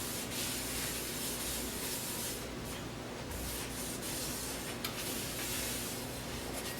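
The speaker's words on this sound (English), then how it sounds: "take another rag and wipe it all off" A cloth rag rubs excess oil off a cast iron pan during seasoning, giving a steady, close broadband swishing and scrubbing that runs continuously at even loudness.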